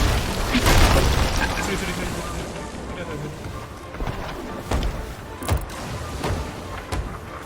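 Cannon fire from another player's ship in the Sea of Thieves pirate game, several dull booms and thuds heard among sea and ship noise, with an initial heavy blast followed by scattered impacts.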